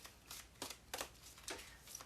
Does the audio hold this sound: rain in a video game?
no